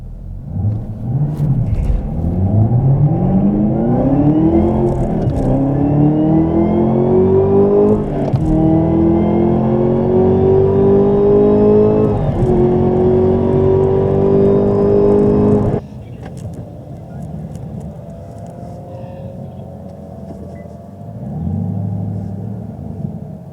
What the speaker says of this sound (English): we are racing my buddy Jesse here in that Z06 Carbon.